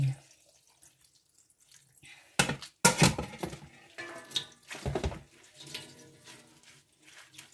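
Coloured pickling brine from pickled spider flower being poured out: quiet at first, then a sudden splashing gush followed by several uneven bursts of running, dripping water that trail off.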